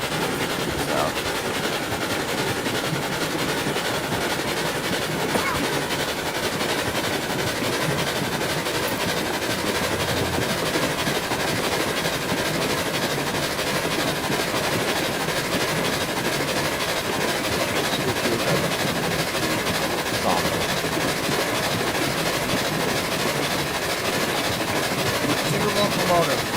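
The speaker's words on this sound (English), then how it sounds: "Two locomotive. Big locomotive." A locomotive in a video game rumbles steadily along the rails with a continuous dense roar and faint rhythmic clatter. Voices talk over it for the entire stretch.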